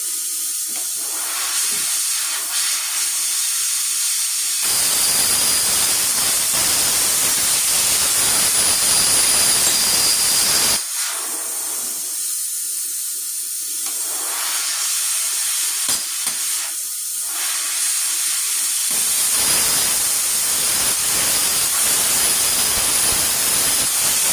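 Arccaptain Cut50 plasma cutter slicing through metal, a harsh, loud hissing roar in long bursts separated by quieter pauses and brief electrical buzzing, with no talking.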